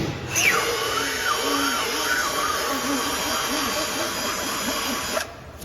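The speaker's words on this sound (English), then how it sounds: "Ream it out pretty good." A drill-mounted reamer grinds into a puncture hole in a car tire, a sustained whirring drill with repeated rising and falling pitch sweeps as the bit is worked in and out, loud and close before stopping abruptly near the end.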